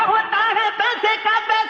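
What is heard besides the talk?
No everyday noises stand out.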